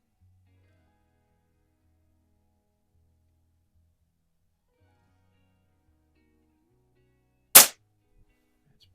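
A single sharp crack from a Baikal IZH-46M single-shot pneumatic target pistol firing a pellet, loud and close, after several seconds of near silence.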